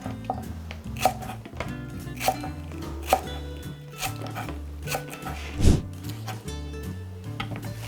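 A knife slices green onions on a cutting board, making repeated crisp chopping knocks at a steady unhurried pace, close and clear.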